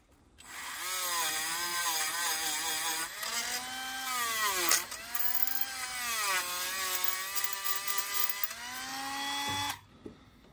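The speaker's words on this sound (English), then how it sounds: "I'm going to use my Dremel to clean this up real quick." Dremel rotary tool cleaning the ignition points of an Innocenti S Spider, a close, high-pitched whine that rises and falls in pitch as it loads and unloads over several bursts, running alone for about nine seconds.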